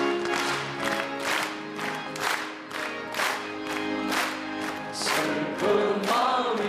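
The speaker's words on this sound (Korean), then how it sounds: "박수하면서 부르겠습니다." A church congregation at a Korean early-morning service claps in steady rhythm while singing a hymn together, voices and regular loud claps filling the room.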